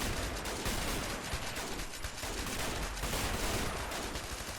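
Sustained wartime gunfire in Men of War: Assault Squad, with mortars, Vickers machine guns and Enfield rifles firing during a British fort defense, a dense continuous roar of overlapping shots and blasts with no clear gaps.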